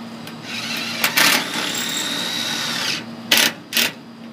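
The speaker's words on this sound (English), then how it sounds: "we're drilling 4-inch screws into this decking here using a 20-volt cordless drill" A 20-volt cordless drill whirs steadily while driving a 4-inch screw into decking, followed by a few short bursts of the motor as it finishes, close up.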